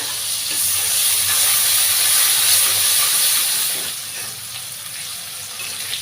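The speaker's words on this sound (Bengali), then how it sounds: "আমি এখন পেঁয়াজটাকে ভাজি করে দেব" Onion frying in a pan with a whole bay leaf gives a loud, steady, close hiss of sizzling that holds for several seconds and then eases slightly. No voices are heard.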